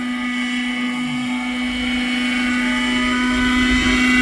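Nitro-powered 1980s German-built RC helicopter lifting off and flying outdoors, a loud steady high-pitched engine whine with a strong constant tone, continuous and close throughout.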